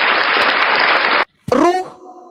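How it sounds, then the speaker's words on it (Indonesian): An audience at a heated religious debate between a pastor and Bible experts applauds in a dense burst of clapping that stops abruptly, followed after a short pause by a person speaking. "Tepuk tangan dulu untuk logika ini."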